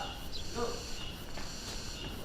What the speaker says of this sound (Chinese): 把后院树上的知了给我捅下来